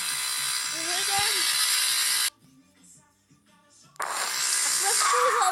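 A motorized scooter engine in a prison-escape video game buzzes loudly and steadily, cuts out for a moment, then revs back up while a voice talks over it.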